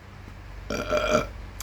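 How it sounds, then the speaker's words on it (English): A loud, rumbling burp after a big mouthful of hot pepper, lasting about half a second and heard alone with no talk. "Pepper burp already."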